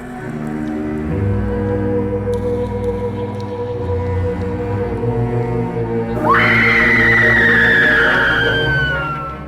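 A woman shrieks while being reanimated in a Re-Animator horror film scene; a high, wailing scream bursts in near the end over low droning tones and rumbling.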